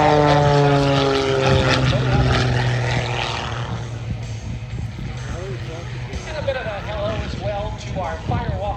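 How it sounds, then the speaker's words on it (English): An Edge 540 aerobatic plane at an airshow makes a low knife-edge flyby, its propeller engine a loud droning roar that sweeps down in pitch as it passes and then fades, with an announcer talking over it. "The low altitude knife edge flyby by Melissa Burns, right past her."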